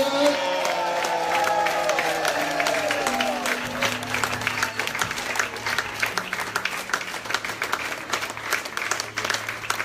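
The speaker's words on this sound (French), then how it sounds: "Permettez-moi de vous présenter le révérend Steve Putois sous vos acclamations." A church congregation at a revival service in Guadeloupe bursts into loud, sustained applause and cheering, with whoops and voices carrying over dense clapping throughout.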